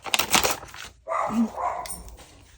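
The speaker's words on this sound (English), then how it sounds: "that dog, boy, if he sees a leaf blowing, he thinks he has to bark" A dog barks outside in a short burst of muffled, somewhat distant barks, followed by fainter yips and whimpering sounds.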